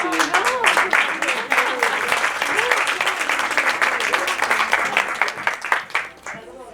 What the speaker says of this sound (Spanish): quería pedir un aplauso para Pilu